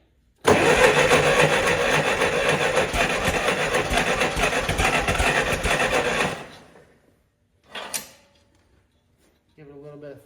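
A propane-fuelled LP fork truck engine in a chilly shop cranks and catches, running loud and steady for about six seconds before cutting off, followed by a short clunk and a brief voice at the end.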